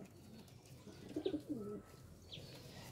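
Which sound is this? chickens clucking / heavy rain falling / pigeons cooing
pigeons cooing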